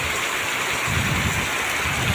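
Heavy morning rain pours down in a dense, steady roar, drumming on surfaces close by without pause and with no voices.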